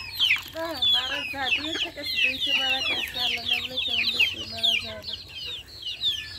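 Hens cluck steadily in a close, rhythmic series of short calls, with faint voices in the background.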